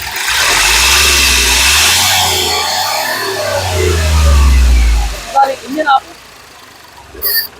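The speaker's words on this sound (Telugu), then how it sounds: "ఇంజిన్ యొక్క నాయిస్ చాలా సైలెంట్ గా అయితే ఉందండి" The three-cylinder engine of a 2018 Hyundai Grand i10 Sportz revs up and holds a steady mid-pitched drone, then drops away, followed by a few short knocks and clicks.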